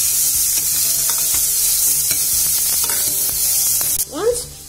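Ginger-garlic paste frying in a pot for corn pulao, stirred with a steady, close sizzle and occasional utensil clinks, then a brief voice near the end.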